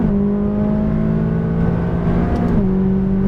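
A McLaren 570S engine accelerates hard on a race track, a loud, steady droning roar that holds one pitch before dropping as the car shifts near the end.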